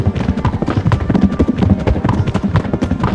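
Horses' hooves pound along in Kingdom Come: Deliverance, a dense, continuous clatter of galloping close by with steady loudness throughout.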